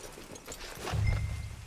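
Horse hooves in Red Dead Redemption 2, a few soft clip-clop steps on the ground growing slightly louder and heavier toward the end, close by.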